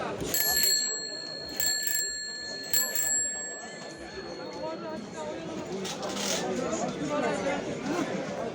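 A bicycle bell rings several times in quick bright dings at the start, with people chattering and talking throughout at a flea market in Tuzla.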